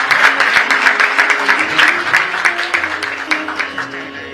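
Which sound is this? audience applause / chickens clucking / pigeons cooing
audience applause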